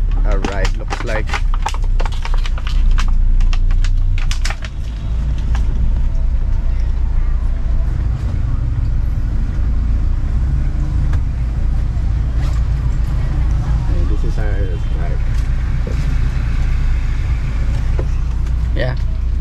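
A steady road rumble from the inside of a car on the 2.5-hour drive to Ninh Binh, with continuous low engine and tyre noise at an even level and scattered clicks and knocks.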